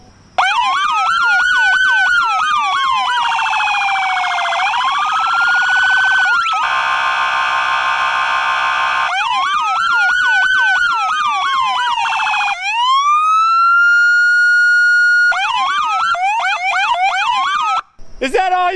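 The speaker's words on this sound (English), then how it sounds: "we are going to demonstrate the sirens." Siren system on a 2021 Chevrolet Tahoe police car cycling through several loud tones: rapid yelp warbles, a slow rising and falling wail, a harsh buzzing horn blast, and a climbing whoop, all close up with no talking.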